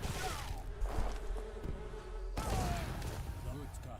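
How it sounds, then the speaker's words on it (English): Swarming bees buzz from hives in Age of Empires 3, a continuous droning hum under game battle noise, with a louder burst partway through. "There's bees coming out of them."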